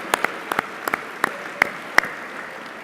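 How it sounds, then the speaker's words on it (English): Sparse, slow hand claps at a recognition gala repeat at a steady pace, a few distinct claps with quiet between them rather than full applause. "let's give them a round of applause"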